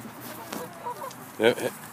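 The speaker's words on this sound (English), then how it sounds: "Just the chickens all start going in." Chickens cluck softly as they head into their coop at dusk. Faint scattered calls are followed by one louder, nearer squawk. A voice murmurs quietly in the background.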